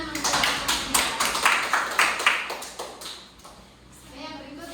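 A classroom applauds a student group with brisk, close clapping that fades out after about three seconds, followed by quiet room tone.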